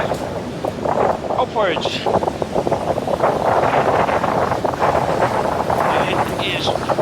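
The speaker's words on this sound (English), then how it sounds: "it certainly seems that the wind has not stopped" Strong gusty wind from Storm Kathleen buffets the microphone outdoors, a loud rumbling roar that swells and rolls continuously while a person speaks over it.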